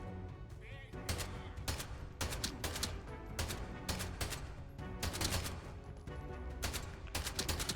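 Semi-automatic weapon fire in the Atomfall video game, a steady run of sharp, evenly spaced shots with a few quick doubles, loud and close over a busy game soundscape.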